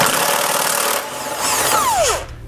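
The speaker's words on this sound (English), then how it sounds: "we'll grab a 15mm socket, pull the bolt out." A tool works a 15mm bolt loose from the rear of a 2014 Dodge Grand Caravan. A close mechanical whir is heard with a rising metallic squeal near the end.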